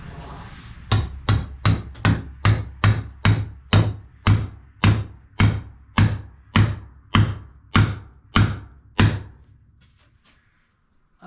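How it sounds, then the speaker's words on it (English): A hammer striking wood while a headboard is built from scratch, about fifteen sharp, evenly spaced blows, close and loud, followed by quiet. "Now we get the hammer."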